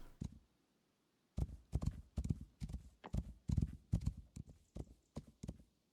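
Horse hooves clip-clop in the building game Rising World, a brief pair of hoofbeats, then a pause, then a steady run of rhythmic, fairly close thuds at a trotting pace, with no talking.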